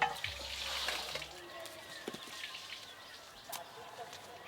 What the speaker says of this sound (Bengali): এই যে যাই পরিষ্কার করে মাছগুলো ধুয়ে নিয়ে আসি